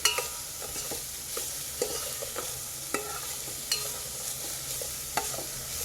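Beans, carrot and cabbage frying in a pan, a steady soft sizzle with intermittent scraping taps of a spoon stirring the vegetables, moderately close and without speech.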